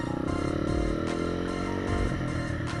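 Dirt bike engine pulling away, a loud, close, steady drone that rises gradually in pitch as the rider sets off, with no speech.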